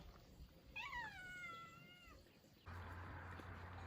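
A single drawn-out cat meow with a rising, wavering pitch, fairly close, followed by a low steady hum of background noise.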